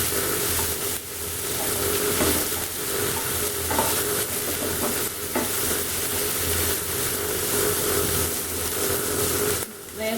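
Onions sautéing in a pan until golden brown, a continuous bright sizzle with occasional stirring scrapes, steady and close throughout.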